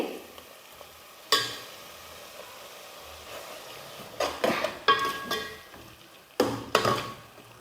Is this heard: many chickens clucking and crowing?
no